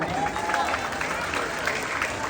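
Audience applause at a Barangay 123, Tondo, Manila beauty pageant national costume segment, a brief dense wash of clapping mixed with crowd noise and some talk.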